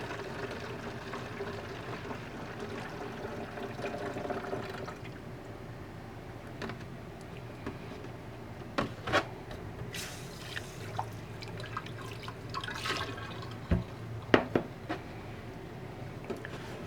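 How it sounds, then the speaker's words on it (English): Water runs and drips into a container being filled for a bleach sanitizing mix for an RV water system, a steady low pour with scattered sharper drips and knocks toward the end. "So we're just going to fill this up with water."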